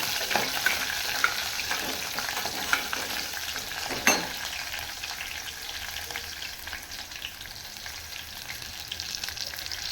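Garlic fries in hot oil for a tempering of moth bean sambar, giving a continuous close crackling sizzle. A few stirring scrapes and one sharp clatter of a utensil cut through it.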